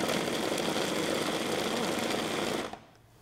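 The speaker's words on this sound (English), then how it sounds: "We just want to pulse it and so it can resemble the rice." Food processor pulsing cooked cauliflower into rice-like bits, a loud buzzing whir held for under three seconds before abruptly stopping, no talk.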